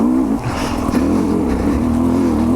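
A Sherco 250 SE Factory dirt bike pulls hard in second gear on an enduro ride, its engine a loud, close, steady rasping drone with a slight dip in pitch partway through, heard without any talk.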